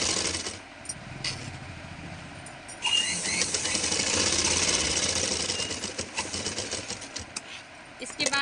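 A sewing machine runs in a steady mechanical chatter while a blouse is stitched with a loose tacking stitch, the motor whirring continuously close by after a brief lull near the start.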